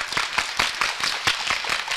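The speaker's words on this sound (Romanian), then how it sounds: "Mulțumim, aplauze pentru Cristina." Audience at a charity concert for children clapping for Cristina, a burst of close, uneven hand claps that rises and falls across the whole stretch.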